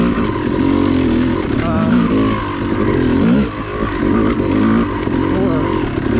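An off-road dirt bike on a mountain OHV trail, its engine loud and close, holds a steady high-rpm drone with small rises and one brief dip. A person talks over it.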